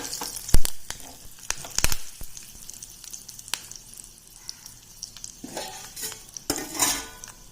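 Hing, curry leaves and red chilies crackle in hot oil for a dahi kadhi tempering, a soft sizzle broken by sharp clinks of a metal spoon against the pan and a louder spit of frying near the end.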